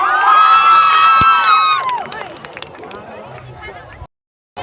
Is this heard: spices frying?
no